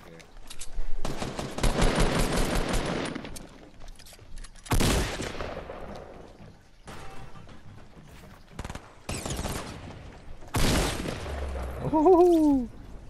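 Bursts of gunfire from the video game Fortnite, with rapid automatic volleys and sharp single shots spread across the scene, loud and close, interleaved with voices and game effects.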